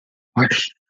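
A single sneeze bursts out in a quiet room, close and fairly loud, lasting under half a second, with a faint trailing sound afterward.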